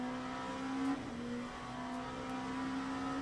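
An LMP2 prototype race car in Le Mans Ultimate on the Bahrain circuit powers out of a corner with a loud, steady engine drone that stays close and sustained, with a brief dip and shift in pitch partway through as it accelerates.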